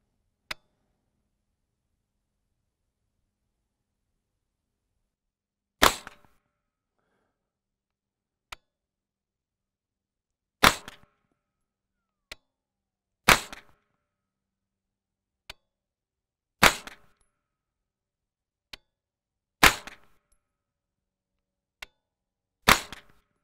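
Single 9mm shots from an Angstadt Arms UDP-9 pistol, eight sharp reports spaced a few seconds apart at a steady pace, each loud with a brief decay, and faint clicks between them in an otherwise quiet range.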